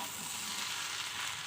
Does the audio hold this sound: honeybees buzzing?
no